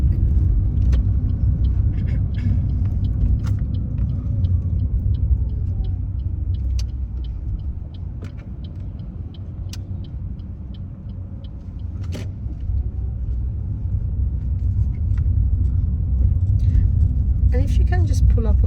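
Car driving during a mock driving test, steady low engine and road rumble heard from inside the cabin, with small interior clicks and ticks throughout while an examiner gives directions.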